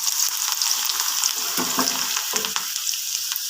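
Ginger dropped into hot oil with popped mustard seeds for Kerala-style lemon pickle, a loud continuous close-up sizzle with bright crackling and a few scraping stirs of a spoon.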